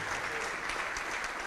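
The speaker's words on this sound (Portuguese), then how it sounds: "Vamos aplaudir mais, igreja" A church congregation applauds, with dense, continuous clapping from a crowd filling the space at an even, steady loudness.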